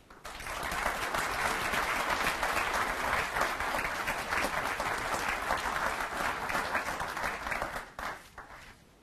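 An audience at a campaign event in Bloomington breaks into sustained applause for an incoming speaker, a thick wash of clapping holding steady for about seven seconds before fading out.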